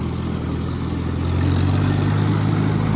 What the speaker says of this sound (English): Starts right up. Just gotta make sure you turn the key.